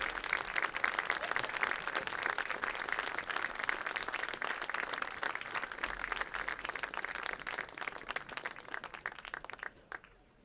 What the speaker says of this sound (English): Let's give these seniors one last round of applause for their dedication.